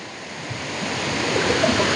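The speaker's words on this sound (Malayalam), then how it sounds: "എത്ര മനോഹരമായ വെള്ളച്ചാട്ടം നോക്കിയേ" A waterfall in Kottayam district, Kerala, giving a continuous broad rushing roar of falling water, steady and fairly close with no voices.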